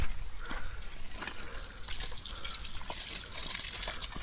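Irrigation water gushes into a sugarcane field, rushing continuously at close range, a dense, steady splashing flow with no voices.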